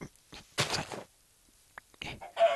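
A chicken in the video game Minecraft makes short clucking sounds, a few soft, separate bursts with gaps between them, fairly faint.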